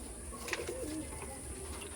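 Pakistani teddy pigeons in a home loft coo softly with low, rolling calls, faint against a steady background hiss and a high whine.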